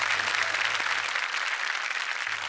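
A studio audience at a Marathi television comedy show breaks into loud, sustained applause, a dense steady wash of many clapping hands with no talk over it.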